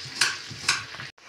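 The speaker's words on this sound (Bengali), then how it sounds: "আলুটা ভাজছি দেখে বুঝতে পারছেন কি করব" Potatoes frying in a home kitchen pan, a steady close sizzle broken by a few brief scraping stirs, then a sudden short silence near the end.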